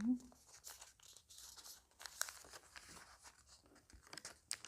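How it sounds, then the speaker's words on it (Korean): Coloured origami paper being folded and creased, soft close crinkles and crisp rustles in short bursts, with faint talking in the background. "이 가운데 산에 맞춰서 이렇게 접어줍니다"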